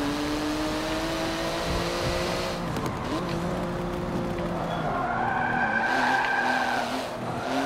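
A car drifts in the racing game Forza 7, its tires squealing in long sustained screeches over a revving engine, loud and close with shifting pitch, and no talking.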